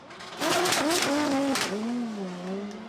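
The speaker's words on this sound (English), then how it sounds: "once he initiates and gets the car sideways, he is the winner of this battle" A drift car slides sideways through a chicane at a Drift Masters competition round in Ireland, its engine note rising and falling in loud, wavering harmonics over a steady rasp of tire noise, close and continuous.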